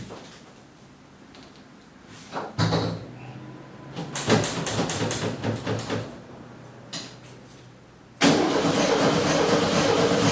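A 1970 VW Beetle's starter cranks the engine in several short, uneven bursts with pauses between, then grinds on loudly and continuously near the end without the engine catching.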